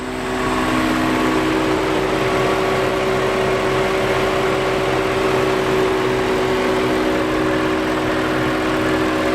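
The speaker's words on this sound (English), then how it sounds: "The aux fan is running." An auxiliary cooling fan runs on a BMW E39 M5, giving a steady, continuous whirring drone blended with the low idle of the engine, close and even in level throughout, with no one talking.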